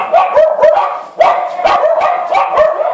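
Several dogs bark repeatedly in quick, uneven bursts, loud and close, with overlapping yips and short pauses between volleys and no voices over them.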